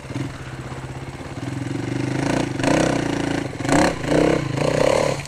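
A KTM 500 dirt bike engine revs on a rocky trail in Hawaii, rising from a low idle into several loud throttle bursts with mechanical clatter.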